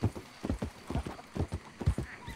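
Horse hooves clip-clop in a video game, a steady rhythmic trot of close, distinct hoofbeats that carries on without a break and with no voices over it.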